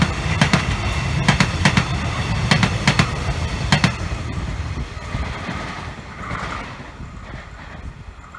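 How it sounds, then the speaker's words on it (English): An X'Trapolis suburban electric train rolls past at moderate speed, with rhythmic wheel clicks over rail joints early on, then a steady rumble fading away. "The wonderful extrapolis coming through, heading to Belgrave, surprisingly slow."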